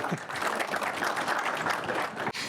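Audience applauding during a televised Chilean political interview with a former finance minister, a dense steady wash of clapping lasting a couple of seconds before cutting off.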